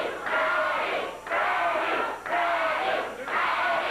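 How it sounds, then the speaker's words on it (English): Wrestling crowd at a 1989 Memphis arena match, roaring and cheering in three loud sustained surges separated by brief dips, dense and continuous with no clear speech on top. "Crowd cheering him on as Freddie waits for Landell."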